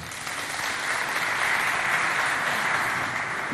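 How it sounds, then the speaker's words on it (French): A school audience at a quiz competition applauds, a dense, steady wash of clapping that holds at an even level for a few seconds, with no voices over it. "On applaudit quand même"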